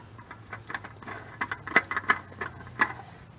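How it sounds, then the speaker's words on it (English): Car oil filter spun onto its threads by hand during an oil change, giving a quiet run of light clicks and scraping ticks spread unevenly across a few seconds, close up with a low steady hum beneath. "Once you get it on there, then you can just go ahead and put your oil filter on."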